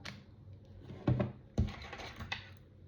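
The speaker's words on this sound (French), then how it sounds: "J'utilise vraiment un simple ciseau." A plain pair of scissors snips into a Vertuo coffee capsule: a few sharp, close clicks and crunches spaced about half a second apart, with no talk.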